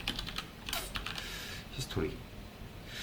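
Typing on a computer keyboard while writing script code, rapid close key clicks in uneven bursts with a voice talking over them at moments.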